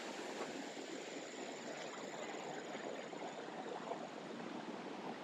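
A small waterfall in Malaysia carrying only a little water gives a steady, even rush and hiss of falling water, constant throughout with no voices.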